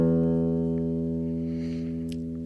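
A single low string on a Cordoba Mini guitar is plucked for tuning and rings on steadily, slowly fading, close and clear, with no talk over it.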